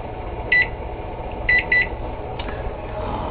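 A microwave oven timer being set, giving a few short, sharp electronic beeps, two close together, over a low steady room hum.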